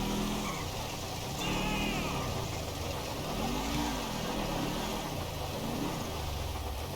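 A car engine from GTA 5 Online hums and revs in smooth rising and falling swells, a moderately loud mid-pitched drone running continuously beneath a steady background hiss.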